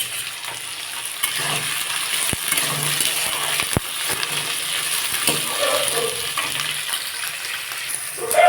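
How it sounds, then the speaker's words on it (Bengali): Potatoes and flat beans frying in oil for a Bengali pumpkin-greens chorchori, a steady close sizzle with occasional stirring clicks and scrapes, no talking. "আমি তেলের মধ্যে আলু আর সিম দিয়ে দিয়েছি এবার এটাকে আমি ভেজে নেবো"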